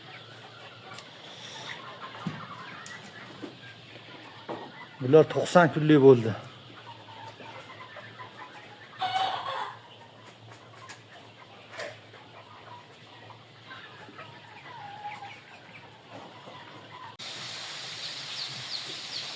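Roosters and hens in a poultry house with white birds and 17-day-old chicks, a loud burst of crowing and clucking near the middle, scattered softer calls elsewhere, and a person talking throughout.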